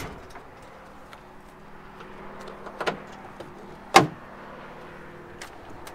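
The lock release on a school bus hood is unlatched and the hood is pulled open during a Klamath County pre-trip inspection. Two sharp metallic clunks, the second louder, ring out against quiet idle ambience.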